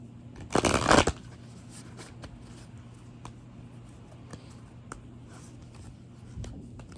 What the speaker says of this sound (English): Now I shuffle these cards a lot.